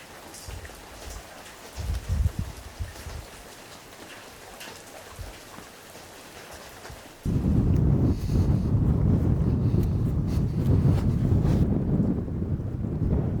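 Wind blows on a hiking trail through the Scandinavian wilderness, at first a soft, gusty rush, then a strong, close buffeting roar against the microphone that persists to the end.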